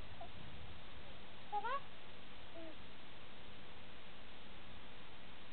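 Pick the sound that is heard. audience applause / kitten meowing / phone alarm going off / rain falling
kitten meowing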